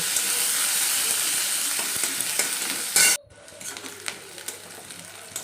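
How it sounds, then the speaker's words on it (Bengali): Chopped onion and slit green chilli fry in a pan with a loud, dense sizzle and stirring scrapes. A sudden burst of clatter comes just past the midpoint, then the hiss drops to a quieter, crackling fry for the remainder. "পেঁয়াজটা আমি লাল করে ভেজে নিচ্ছি"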